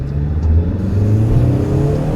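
A 2014 Hyundai Elantra Coupe with an automatic gearbox revs hard under acceleration, a loud, steady mid-range engine drone rising in pitch over about two seconds, close to the car with no talking.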